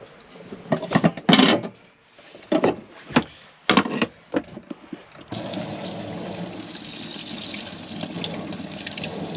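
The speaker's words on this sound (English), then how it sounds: "this is just showing your water pump is working and your water is getting the temperature there" Water gushes steadily from a motorhome tap fed by its water pump, a loud continuous rush after a few seconds of intermittent clatter and splashing.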